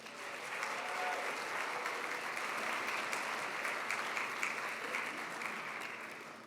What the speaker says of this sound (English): give a huge round of applause for Andrew.